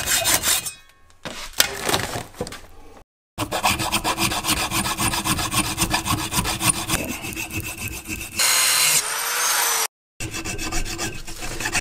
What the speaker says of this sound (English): now we're just shaping it out a little bit with the file to kind of get it that more refined shape